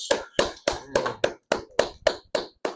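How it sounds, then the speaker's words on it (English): A slow, evenly spaced series of about ten sharp claps, close by, from what sounds like a single pair of hands rather than a crowd, during a sales training session. "Can we give him a round of applause, guys?"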